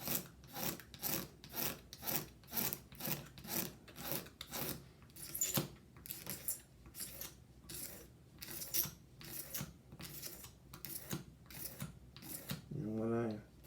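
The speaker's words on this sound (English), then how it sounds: "I use a regular box cutter blade, and we just scrape it off." A regular box cutter blade scrapes old glue off the bridge of a Recording King Dirty 30 guitar during a bridge reset, about a dozen evenly spaced rasping strokes, close and fairly quiet, with no talking over them.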